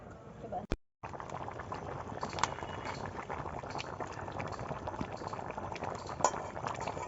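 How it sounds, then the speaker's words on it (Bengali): Chicken curry boiling in a covered pot, a close, steady bubbling and burbling that goes on throughout, with a brief clink near the start. "আমাদের মাংস টকবক করে ফুটছে"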